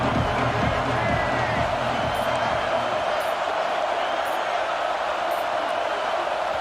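A packed football stadium crowd roars steadily and loudly throughout, a broad continuous wall of cheering with no pauses, and some faint voices mixed into the din.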